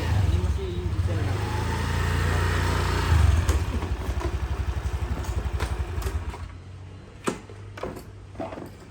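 A motorcycle engine runs close by on a street, a steady low drone for the first few seconds that then gives way to a rapid rhythmic chugging and fades into quieter traffic noise with a few sharp knocks.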